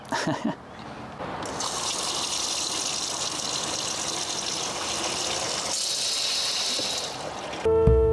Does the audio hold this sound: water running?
yes